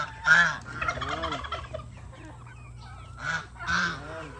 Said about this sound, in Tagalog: Dwight, asa imayay ka itong pabo, Dwight?